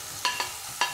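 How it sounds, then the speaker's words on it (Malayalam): Crushed onions frying in hot coconut oil in a kadai, a close continuous sizzle broken by three sharp stirring scrapes in quick succession. "വെളിച്ചെണ്ണ ചൂടായി കഴിയുമ്പോൾ നമുക്ക് ഇതിലേക്ക് ഉള്ളി ചതച്ചത് ഇട്ട് കൊടുക്കാം."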